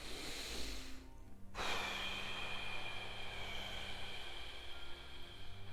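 A person exhales forcefully and steadily while lifting during an abdominal exercise, a long breathy rush after a brief pause, close and fairly loud, with no talk.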